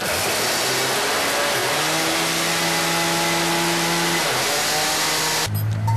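Electric mixer grinder whirring steadily as it grinds bread slices into crumbs, a loud continuous motor drone with a shifting pitch, cutting off abruptly near the end.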